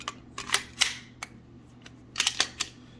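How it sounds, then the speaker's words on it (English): A Smith & Wesson M&P 2.0 long-slide pistol being clear-checked: a few crisp, close metallic clicks and slide movements in two quick clusters, with no talking. "let's go ahead and do a clear check"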